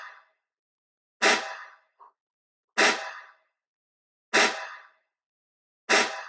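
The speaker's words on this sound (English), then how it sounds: "it's a live snare. Just added some reverb to it just to space it out a little bit" Four evenly spaced hits of a live snare drum played alone with added reverb, each sharp crack followed by a short reverberant tail, loud and close in silence.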